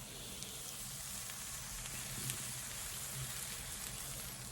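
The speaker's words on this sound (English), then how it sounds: "It's all sizzling" Pheasant fajitas sizzle steadily in a hot pan, a dense, even crackling hiss that carries on without a break and with no talking.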